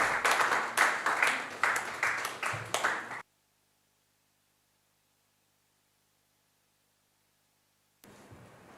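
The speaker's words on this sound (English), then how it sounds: "Please, a round of applause" Audience applause at a report launch event on debt, youth and climate change in Nigeria, a dense burst of clapping lasting about three seconds, then silence before a faint return of room noise.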